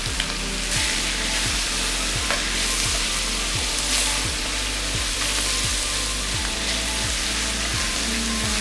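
Steak searing in a hot pan with garlic butter: a dense, loud sizzle and spitting crackle runs continuously, with a regular low thumping repeating underneath about once a second.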